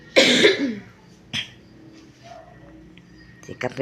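A harsh, loud cough bursts out at the start, followed by a shorter cough and then a few quieter throaty sounds near the end.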